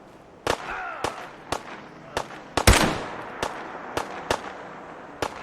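Video game gunfire, a string of sharp single shots spaced irregularly about half a second to a second apart, one louder burst in the middle, moderately close.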